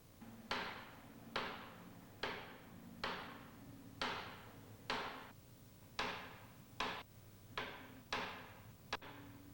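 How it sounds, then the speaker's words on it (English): A plastic hammer taps a purifier's bearing case down onto a ball bearing, about ten sharp, evenly spaced knocks, each with a brief ringing decay, close and alone. "Tap the bearing case with a plastic hammer and set it evenly on the ball bearing."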